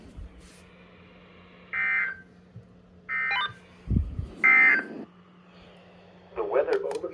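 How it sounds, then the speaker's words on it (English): NOAA weather radio EAS alert broadcast, with three steady mid-pitched tone bursts of about half a second each, followed by a brighter warbling burst, all over a faint constant hum and low background noise. "this has been a test of the NOAA weather radio warning alarm and EAS signal"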